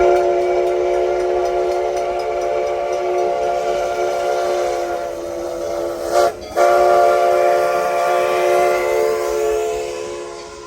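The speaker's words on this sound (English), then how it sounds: "there's the train coming" An approaching train sounds a loud, sustained steam-style whistle, a rich chord-like tone held for about ten seconds with a brief break near the end, over low rumbling rail noise; no speech.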